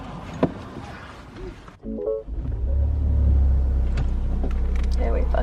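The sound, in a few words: car engine running after being started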